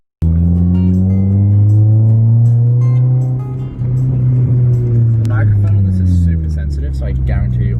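A Honda Civic engine runs with a steady low drone that holds close and loud throughout, its pitch rising and falling slightly, with brief higher clicks and noises toward the end.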